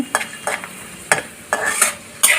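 Cashew nuts fry in a pan, with bursts of stirring and sizzle at a steady, irregular rhythm, close and fairly loud with quieter frying between strokes; no one talks.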